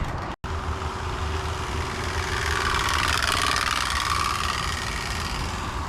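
A card clipped into bicycle spokes rattles continuously as the bike rolls along, producing a loud, steady buzzing drone that imitates a 500cc motor engine, heard close by.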